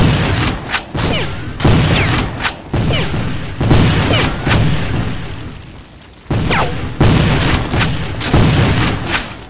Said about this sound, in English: They're bringing up cannons!